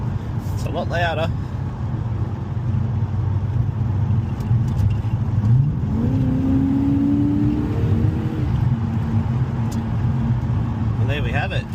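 Loud, deep drone of an HSV Clubsport with a 2.5-inch exhaust driving on a road, heard close from the cabin, with a steady rumble and one rising rev swell partway through.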